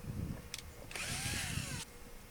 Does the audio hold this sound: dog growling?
no